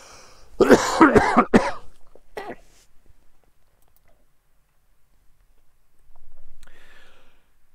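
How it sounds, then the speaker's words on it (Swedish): Several sharp, harsh coughs in a quick burst, close up, followed by a softer throat-clearing sound and a quiet exhale. "Jag mutar mig, jag måste hosta lite."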